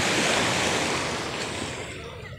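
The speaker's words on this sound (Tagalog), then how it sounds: "Maalon nga, maalon." Rough sea waves break on a beach in a steady, loud roar of surf that washes continuously and fades slightly toward the end, with no voices.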